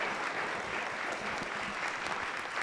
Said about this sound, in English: let's give Jason one more round of applause